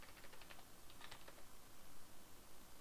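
Quick bursts of typing on a computer keyboard, faint light key clicks in two short clusters over low background hiss, with no voices.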